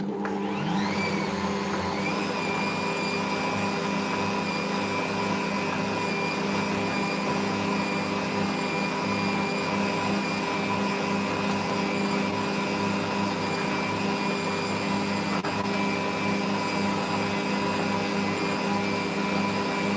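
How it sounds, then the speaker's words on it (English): An electric mixer whirs through gingerbread cookie dough made with sugar and gingerbread mix. Its steady motor hum starts at once and holds a constant pitch, close and continuous. "I'm just giving this a quick mix"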